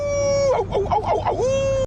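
A rooster crows loudly and close, one long warbling cock-a-doodle-doo that rises, wavers, then holds a sustained tone before cutting off abruptly.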